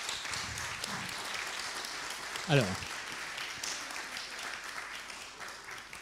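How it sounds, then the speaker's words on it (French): Steady, dense applause fills the hall as an audience claps during a debate on moving away from nuclear power. The clapping stays even and fairly loud throughout, and someone speaks briefly over it. "donc le temps d'applaudissement"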